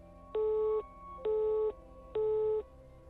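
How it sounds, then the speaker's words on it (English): A disconnected telephone line gives three evenly spaced, steady beeping tones over a low hum, moderately loud, with no voices. "A moment later, the line clicked off."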